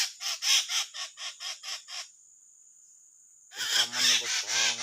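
A chirping songbird caught on birdlime gives a quick run of about eight evenly spaced, loud calls close by. A steady thin tone follows, then a burst of harsher, scratchier calling.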